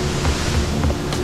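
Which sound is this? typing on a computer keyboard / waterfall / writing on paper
waterfall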